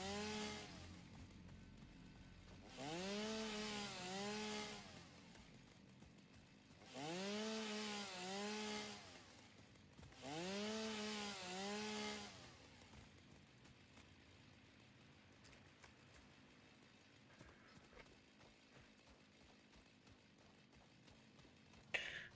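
A chainsaw in the video game Satisfactory revs up and cuts wood in three loud bursts of a few seconds each, its pitch rising and falling, with quiet gaps between cuts and no voices.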